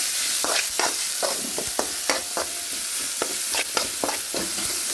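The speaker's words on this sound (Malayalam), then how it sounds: "കറിവേപ്പില, കാന്താരി മുളക്, ഇഞ്ചി, വെളുത്തുള്ളി, കടുക്, ഉലുവ എല്ലാം നല്ല ചുമന്ന് ബ്രൗൺ കളറാവുന്നത് വരെ വറുത്തെടുക്കണം." Curry leaves, green chillies, ginger, garlic, mustard seeds and fenugreek frying in oil for beetroot pickle, a constant close sizzle broken by sharp stirring scrapes every second or so.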